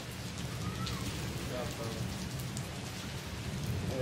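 Steady rain falls continuously on surfaces outdoors during a wet-weather outing, a dense even hiss throughout with faint voices mixed in underneath.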